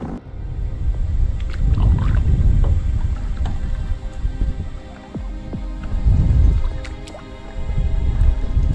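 A largemouth bass thrashes and splashes in water while held out of the river, with loud bursts of churning, dripping splashes that come in waves, separated by quieter dripping.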